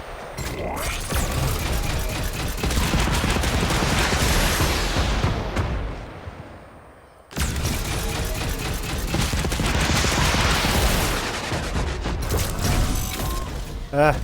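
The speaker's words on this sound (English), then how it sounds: "Who's he shooting at?" A video game battle, with dense, loud gunfire and mechanical clatter carrying on almost without a break, then a short lull before a second sustained barrage. Bursts of rapid shots overlap throughout.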